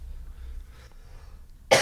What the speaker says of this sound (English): God, I'm having a nightmare with this cough.